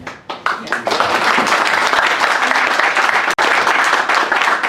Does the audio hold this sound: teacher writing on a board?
no